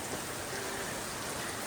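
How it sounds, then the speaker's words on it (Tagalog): Heavy rain pours over a home garden of tomato plants in the Philippines, a steady dense hiss that fills the whole clip without pause and with no voices. "Oy, ay, umuulan na naman."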